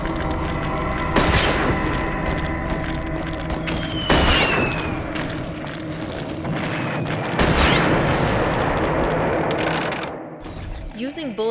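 Gunshots fired at bone thieves in Eternal Darkness, several loud booming shots spaced a few seconds apart, each with a sharp attack and ringing decay over a dark droning game ambience.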